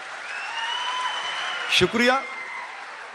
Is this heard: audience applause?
yes